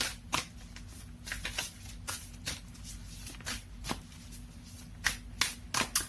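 A deck of oracle cards shuffled by hand in a series of quick riffling bursts and soft slaps, close and clear, with short pauses between handfuls over a low steady background hum.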